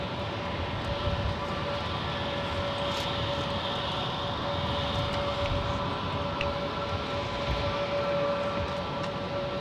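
An American Airlines jet takes off from runway 30 right at San Jose Airport, making a continuous, fairly loud engine roar with a steady whining tone that holds level throughout, with no talk heard.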